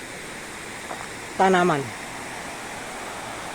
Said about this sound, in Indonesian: ini tempat ini dinamakan Gua Sodong, sungai bawah tanah